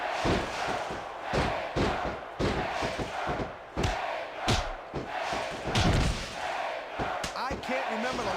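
Wrestling arena crowd in the Smackdown vs Raw 2K20 PS2 game, a steady roar of cheering under repeated heavy thuds and slams from the ring, with commentators talking over it.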